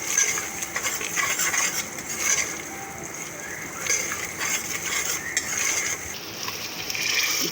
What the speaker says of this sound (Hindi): खोपरा डाल दी मैं, खोपरा डाल के भून दी